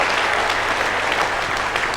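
Audience applause fills the moment, a steady dense clatter of many hands clapping together, loud and continuous throughout.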